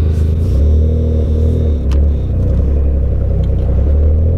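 A big-turbo Suzuki Cappuccino pulls away with a loud, close engine drone that rises and dips as it revs, a steady rumble running the whole time with no talk over it.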